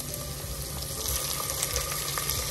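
Garlic-ginger paste frying with onions in a pan, a steady close crackling sizzle with scattered pops throughout, no talk.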